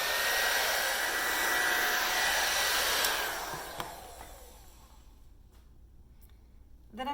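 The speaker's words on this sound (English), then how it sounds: "So I'm just going to use just a regular hair dryer." A regular hair dryer blows heat onto painter's tape to loosen its adhesive at the edge of a painting. The steady, loud whoosh runs for about four seconds, then winds down and fades, leaving faint clicks.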